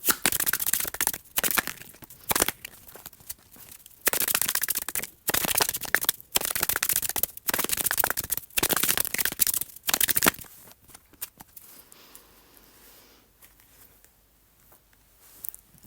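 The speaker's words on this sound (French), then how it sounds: "je tire déjà toutes les cartes" A deck of tarot cards is shuffled for about ten seconds in rapid riffling bursts, then the shuffling stops and a few soft, sparse card sounds follow near a quieter end.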